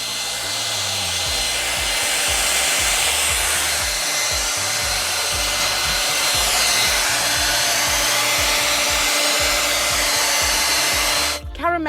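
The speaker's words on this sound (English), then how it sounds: "now, to set it, we'll use the hairdryer" A handheld hairdryer blows steadily and loudly at close range while chalk paint dries on a stencilled rust-effect wall, a continuous airy roar lasting about twelve seconds before cutting off abruptly at the end.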